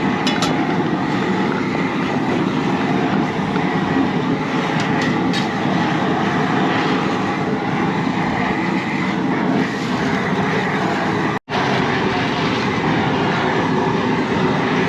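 A jet burner roars under a pot for a crawfish boil at a Galveston Island RV gathering, a loud, continuous, steady rushing hiss that persists without a break.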